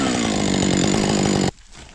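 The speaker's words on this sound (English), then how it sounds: "I basically choked up the chainsaw with these long stringy chips." A chainsaw cuts through a big punky log on a trail, its engine buzzing loud and close at full throttle with a rapid pulsing rhythm before it stops abruptly.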